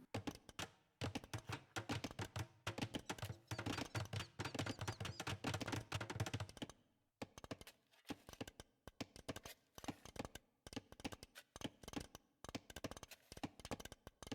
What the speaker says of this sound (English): The wood chopping sound is kind of relaxing, isn't it?